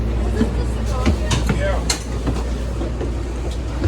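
An NJ Transit Bombardier bi-level commuter train on the Northeast Corridor rumbles steadily with rattles and clanks, while people talk in the background over the running noise of the car.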